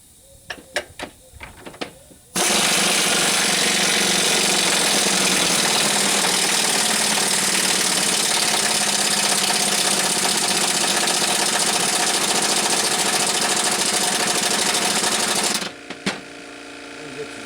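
A pneumatic impact wrench runs on a splicing trailer part in one long continuous loud rattling burst of about thirteen seconds, preceded and followed by a few sharp clanks.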